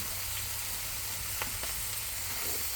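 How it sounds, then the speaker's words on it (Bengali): Ground chicken paste sizzling in ghee with cinnamon and cardamom in a frying pan, a loud steady hiss of frying close by with a few sharp crackles, no speech. "এখন ঘির মধ্যে ওই মোরগ বাটা ডালে দিমু"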